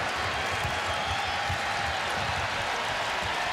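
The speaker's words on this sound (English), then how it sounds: "This crowd fired up." A college basketball crowd in an arena at a Creighton Bluejays versus Seton Hall Pirates game cheers and applauds in a steady, roaring wash of noise, loud and unbroken throughout with no single voice standing out.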